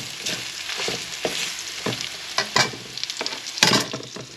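Garlic and onion fry in a pan for adobong sitaw, a steady crackling sizzle broken by sharp stirring scrapes and spatters, close and continuous with no voices.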